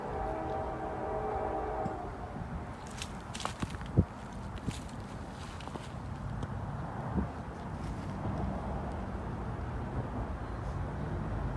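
A Union Pacific locomotive-hauled train approaches over a bridge in the cold, a steady low rumble of wheels and engine filling the background with a few sharp knocks and clanks, and no voices.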